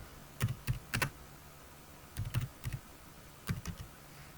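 Typing on a computer keyboard comes as three short bursts of quick, close key clicks separated by pauses.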